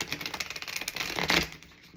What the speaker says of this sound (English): let's shuffle these a little bit more